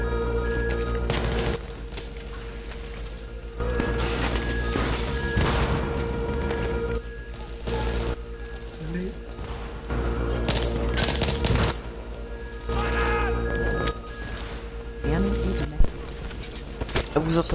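Battlefield 3 co-op combat: repeated bursts of automatic gunfire and heavy booms, close and loud, recurring every second or two under players talking over each other.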